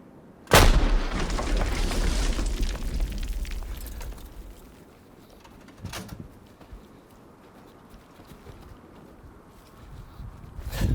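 A single heavy shot from an FH70 self-propelled howitzer booms close by, followed by a long rumbling decay, with a second fainter blast a few seconds later.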